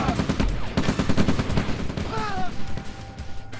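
Rapid, dense bursts of cannon and gunfire from tanks battling a mammoth tank in the OpenRA strategy game, continuous and loud with a caster's voice talking over the shooting.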